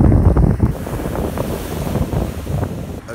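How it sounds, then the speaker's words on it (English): Ocean surf and wind at a cloudy beach, a loud rushing wash of waves with heavy wind buffeting the microphone, steady throughout the short stretch. "Okay, so I'm at the beach."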